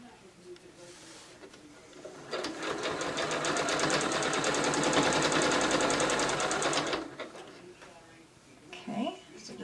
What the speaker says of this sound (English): my needle's down, rolling it, holding it, sewing it